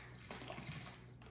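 Regular soy sauce, about ten ounces, pours in a short, faint liquid stream into a steak marinade of vinegar, starting abruptly and stopping after about a second, with no talk.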